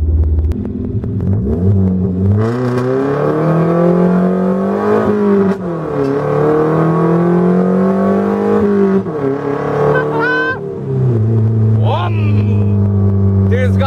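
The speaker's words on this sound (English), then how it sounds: "We're just gonna bring it through the revs and kind of listen to it more or less." A loud car engine revs up and down repeatedly through a throaty sidepipe exhaust, with rising and falling pitch sweeps and crackles between revs.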